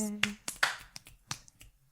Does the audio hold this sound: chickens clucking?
no